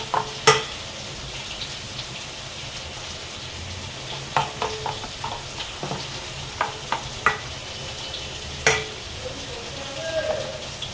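Dry red chilies and black cumin fry as a tempering in hot oil, giving a steady close sizzle punctuated by scattered sharp clicks and taps of stirring.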